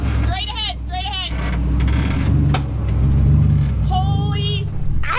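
A Jeep engine on a rough off-road trail washed out by flash floods, droning and rising as it pushes to climb out of a dip, close and steady beneath people talking.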